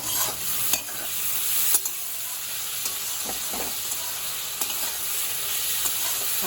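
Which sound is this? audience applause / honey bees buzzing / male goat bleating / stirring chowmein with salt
stirring chowmein with salt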